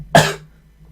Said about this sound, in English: Again, I apologize for my cough, guys.